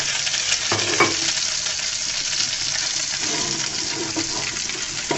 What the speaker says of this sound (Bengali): ভালো করে উল্টিয়ে পাল্টিয়ে ভেজে নিতে হবে।